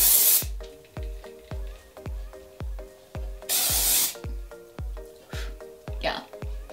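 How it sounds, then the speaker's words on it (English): Two long bursts of aerosol hairspray hiss over a repeating rhythmic clicking beat with a steady background tone. "let's go ahead and try it out. I'll spray it here"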